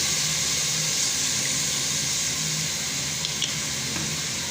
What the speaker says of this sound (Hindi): चिकन को अभी हम फ्राई करेंगे।